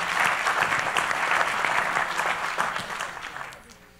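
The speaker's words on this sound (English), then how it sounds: "So can we give them all a round of applause for being here?" Audience at a sustainability plenary panel applauds steadily, a dense wash of clapping that holds for about three seconds before tapering off toward the end.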